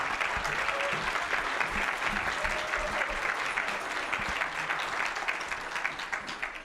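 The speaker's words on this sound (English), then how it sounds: "a big round of applause and big thanks to Miss O" Audience at a school spring concert at Faith Baptist Academy applauds steadily and fairly loudly for a program leader, a dense wash of clapping that holds throughout and eases slightly at the end.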